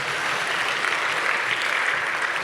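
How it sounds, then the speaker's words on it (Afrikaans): A church congregation at a school service gives the musicians a warm round of applause, dense, steady clapping that fills the room from start to finish. "Kom ons gee ons musikante 'n lekker hande klap."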